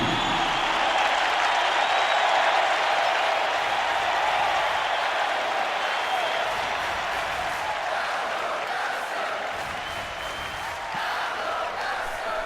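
A basketball arena crowd in the video game NBA 2K17 cheers and applauds loudly and continuously, a dense sustained roar that eases slightly toward the end.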